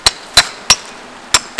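A hammer strikes a chainsaw while its bar is being loosened for sharpening: five sharp metallic taps close by, spaced unevenly with a longer gap before the last pair.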